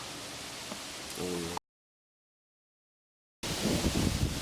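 Strong wind roars against the microphone as broad rushing noise, drops out to a short silence, then returns louder in buffeting gusts.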